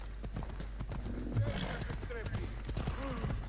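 In the video game Assassin's Creed Odyssey, a horse's hooves clop in a steady running rhythm with occasional neighs, while a person talks over the sound throughout.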